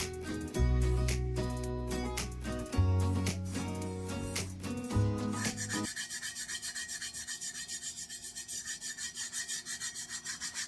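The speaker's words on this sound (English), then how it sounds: "When you're rubbing, you can definitely tell if any's still standing up." Flakes being rubbed flat onto a galaxy tumbler, a close, quiet rhythmic rubbing and scraping, starting with music and then repeating in steady strokes.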